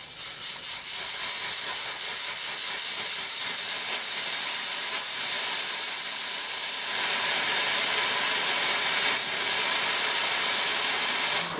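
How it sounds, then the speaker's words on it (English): Compressed air blasts through a rubber-tipped blow nozzle in a shop during a Chevy/GMC 2WD truck transmission replacement, a loud steady hiss with short bursts at the start, then a long continuous rush. "I think I got a rubber tip blow nozzle over there"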